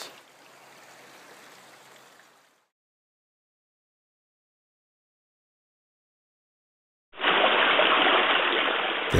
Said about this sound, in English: when the sun breaks through the trees and the creek is singing